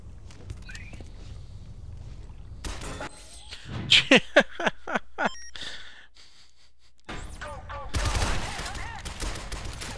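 Enemy gunfire in the video game Shadow Complex, a quick burst of several sharp shots in close succession amid game effects and ambience, with a brief quiet gap before louder noisy sound returns.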